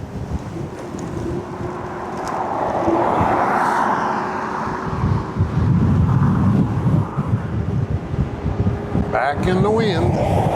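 Wind roars across the microphone while riding a Ridstar Q20 electric bike outdoors, a loud low rumble that swells and gusts unevenly throughout, with someone talking over it.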